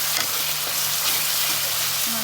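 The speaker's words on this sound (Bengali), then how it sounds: "এখন আমি একটু নেড়ে করে নিয়ে আমি মাছটা ছেড়ে দেব।" Fish curry sauce sizzles in hot oil in a pan while being stirred, giving a continuous close frying hiss with soft scraping movements.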